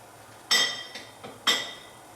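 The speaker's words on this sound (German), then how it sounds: "Mal kurz durchrühren" Metal spoon stirring dark beer simmering in a pot, a few sharp clinks against the pot's side, two louder and a couple softer, close and with no talk.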